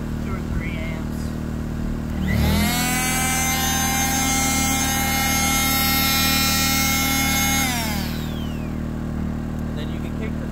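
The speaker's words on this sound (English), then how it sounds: "Harbor Freight sander." A small Harbor Freight electric sander spins up and whines steadily for several seconds before winding down. A Predator 2000 inverter generator powers it, its engine hum running underneath the whole time.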